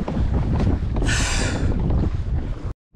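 Strong wind roars across the microphone during kayak fishing on open water, a loud continuous rushing with gusty swells and a brief hiss burst, cut by a sudden drop-out near the end.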